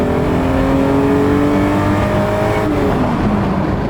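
A 1960s Mercedes-Benz W113 280SL Pagoda's engine revs hard and climbs steadily in pitch as it accelerates on the road, loud and close, with no voices.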